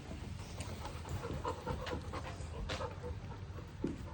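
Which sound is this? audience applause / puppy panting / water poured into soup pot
puppy panting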